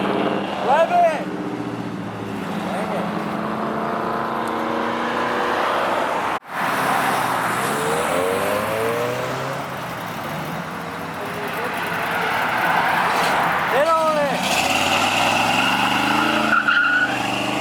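Mitsubishi Lancer Evolution at a car show, its engine droning and revving loudly nearby with rising and falling pitch, joined by tire squeal and other passing traffic noise, with people talking throughout.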